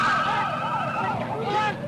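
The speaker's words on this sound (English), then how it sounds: "There's a police siren." A wailing police siren sweeps up and down repeatedly, moderately close, heard over engine and road noise.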